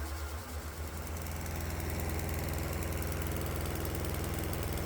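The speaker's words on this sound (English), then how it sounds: "The good news is, the engine still runs perfectly fine as it circles the drain" Diesel engine idling on transmission fluid as fuel, a steady low knocking rumble with a fast even pulse, close and continuous with no voices.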